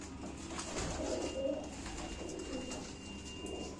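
Pigeons coo softly and at a distance against quiet ambient background noise, a few low murmuring calls spread across the stretch with no talking.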